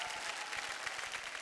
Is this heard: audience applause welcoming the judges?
yes